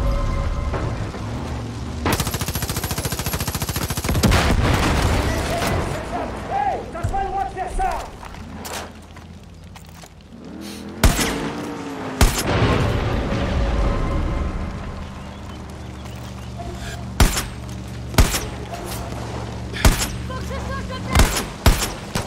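Far Cry New Dawn gameplay firefight with loud booming gunshots and explosions, a dense burst early on and then spaced single sharp shots, while a voice talks over parts of it.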